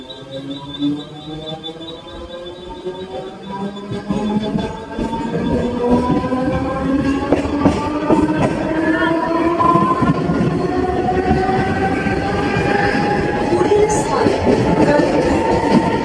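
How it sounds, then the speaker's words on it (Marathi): A train departing Chhatrapati Shivaji Maharaj Terminus in Mumbai, gathering speed nearby, its rumble and rhythmic wheel clatter growing louder and steadier, with voices heard early on. "फुल फास्ट आहे काय आता रेल्वे"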